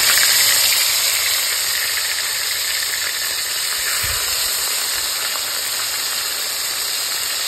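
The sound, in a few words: fish frying in hot oil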